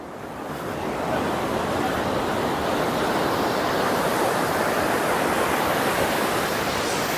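Ocean waves breaking on Niladri Beach in Puri make a steady, loud broadband roar of surf that swells in during the first second and then holds without a break, with wind in the background.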